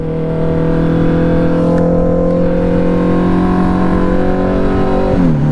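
A car roars past on the road during a motorcycle ride, its loud steady engine drone holding throughout before the pitch drops sharply near the end as it goes by.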